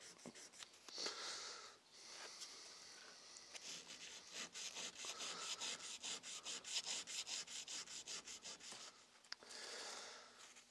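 Hand sanding a mammoth dagger handle with fine-grit paper, close rhythmic back-and-forth rubbing strokes, fast and steady, with short pauses between bursts.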